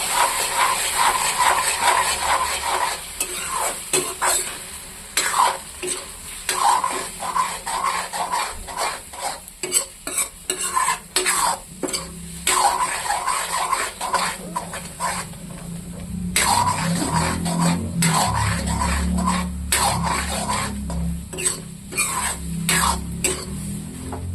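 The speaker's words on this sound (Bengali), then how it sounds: "এটাকে এরকম করে ভাজা ভাজা করে নেব।" Egg being stirred and fried in a pan, a continuous hiss of sizzling broken by repeated scraping and rubbing strokes, with a lower rumble entering in the second half.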